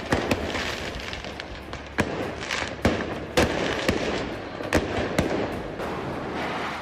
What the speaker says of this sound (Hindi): हमास लड़ाके कई जगह पटाखे जलाकर दहशत मचा रहे हैं।